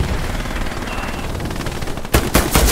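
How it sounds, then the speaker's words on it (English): Gunfire in the World War II shooter Hell Let Loose: steady battlefield din, then loud close bursts of rapid shots crack out in the final second. "I'm getting shot at, but I don't care."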